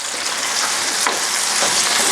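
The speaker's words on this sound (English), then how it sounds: "And start frying it." Steady, close sizzling of onions frying in a pan for chicken paprikash, with a faint stir partway through and no voices.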